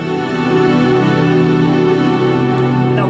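Bass guitar sounding the tones of a major 7 chord with added 9, sharp 11 and 13, a sustained, ringing cluster of notes held together, clear and loud with no talking.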